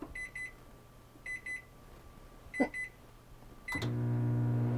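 A built-in stainless microwave in a 2023 Ford Transit van beeps while its clock is set: short triple beep clusters repeat, one of them with a click, then a longer tone comes with a steady hum as the oven starts up.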